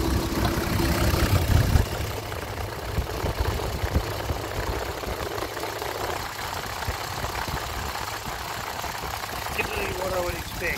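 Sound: diesel engine idling during blow-by check

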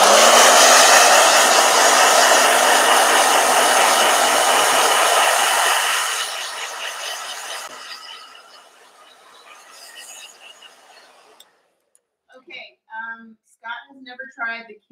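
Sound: blow dryer running

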